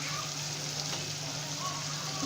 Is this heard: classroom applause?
no